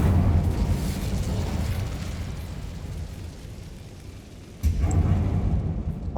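Incendio fire spell cast in the game Hogwarts Legacy: a steady low roaring rumble that thins out, then a fresh booming burst of flame near the end, loud and close.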